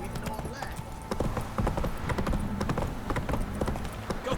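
Horse hooves clip-clop at a gallop in The Witcher 3 video game, a steady dense drumming close by under game dialogue and ambient sounds.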